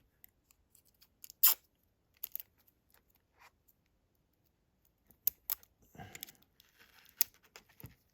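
Kapton tape is pulled and wrapped around a small model decoder in short, crisp crinkling and tearing bursts separated by quiet pauses, close and faint.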